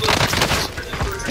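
Rapid gunfire in the video game Call of Duty Vanguard Warzone rattles out in a close, loud burst that lasts a little over a second.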